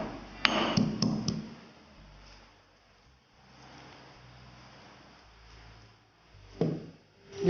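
Fresh ginger slices and spices are pounded gently, with a few sharp knocks near the start and again near the end and a quiet stretch between.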